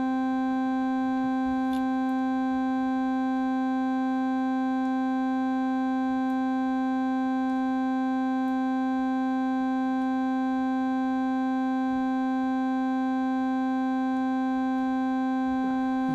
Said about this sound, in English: the oscillator is a dirty kind of sine wave